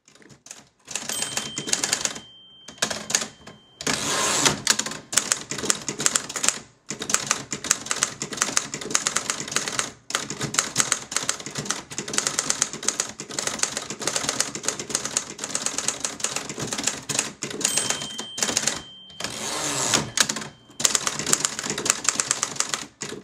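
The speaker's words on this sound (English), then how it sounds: "The Touchmaster 5 is a big, heavy clunker of a machine, with a noisy typing action and a noisy carriage" Heavy, clattering keystrokes on a Touchmaster 5 typewriter in quick bursts, with brief pauses and a few noisy carriage movements, close and loud throughout.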